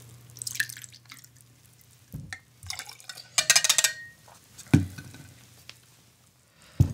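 Ecco Domani wine is poured for a chocolate drink in short, separate splashes and drips into a glass, with quiet gaps and a few low clunks between the pours.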